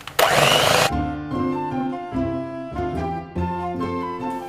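An electric mixer beats eggs into choux pastry dough, whirring loudly with a strong pitched motor hum that dips and surges as the load changes, after a brief harsh burst at the start, with no talk.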